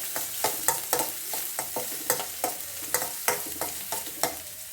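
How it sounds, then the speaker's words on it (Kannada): Chopped small onions frying in a pan while being stirred, steady sizzle under repeated scraping strokes of a spoon, close and fairly loud, no voices. "ಇದನ್ನು ಟ್ರಾನ್ಸ್ಪರೆಂಟ್ ಆಗೋರಿಗೆ ಸಣ್ಣ ಉಳ್ಳಿ ಫ್ರೈ ಮಾಡೋಣ."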